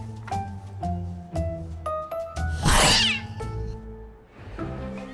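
Several cats meow one after another in a home with many cats, with clear repeated calls and a louder, drawn-out yowl near the middle, and no talking.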